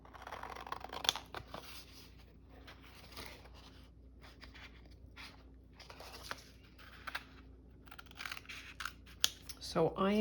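Scissors snip and trim folded paper at a crafting table, with a few crisp cuts, light rustling and paper handling, close and quiet, ending in a brief sharper scrape.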